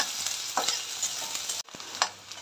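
Onion frying in oil in a pan with curry leaves, a steady hiss of sizzling broken by a few stirring scrapes, close and moderately loud with no talk.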